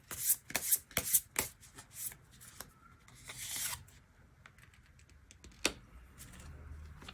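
Tarot cards being shuffled and drawn up close: a quick run of riffling, snapping card sounds, then softer sliding and rubbing, with one sharp flick near the end, no voices.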